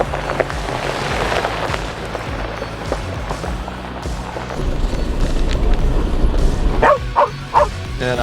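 A dog barks repeatedly with its head out the window of a moving Jeep on an off-road trail, over steady road and engine noise, the barks sharp and fairly close.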